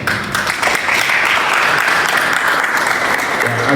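A large audience applauds loudly and continuously, a dense unbroken wash of clapping that fills the whole stretch without pause.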